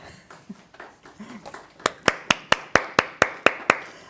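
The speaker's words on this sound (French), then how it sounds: "on essaie de faire retentir quelques applaudissements" A few people clap at a closing speech, a sparse single-person rhythm of about a dozen sharp, evenly spaced claps that starts softly and grows louder.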